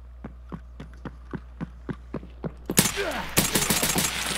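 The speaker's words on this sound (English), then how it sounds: "They are shooting at me" Gunfire in Escape From Tarkov: a steady series of distinct, evenly spaced distant shots, then a louder, denser cluster of cracks from closer range with echoing reverberation.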